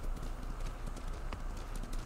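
Horse hooves clip-clop at a steady trotting rhythm over ground in the samurai video game Ghost of Tsushima, moderately close beneath a layer of ambient game noise.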